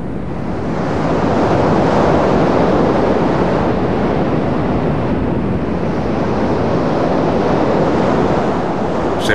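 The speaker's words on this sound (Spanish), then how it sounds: "El peor es el maremoto." Churning ocean waves surge in a loud, continuous roar with wind noise, heard alone, representing a tsunami in a documentary about earthquakes.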